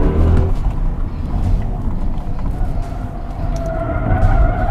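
Tires of a BMW i5 electric sedan squeal in long, steady wails during hard driving, loud and close, with motor and road noise underneath.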